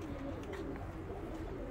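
Pigeons coo softly nearby in a nest area, low throaty murmurs repeating over a quiet background.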